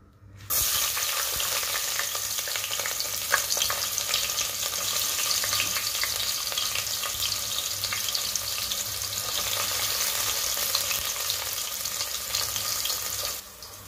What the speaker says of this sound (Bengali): তেলগুলো একটু গরম হয়ে গেলে আমি এখানে পেঁয়াজ দিয়ে দেব।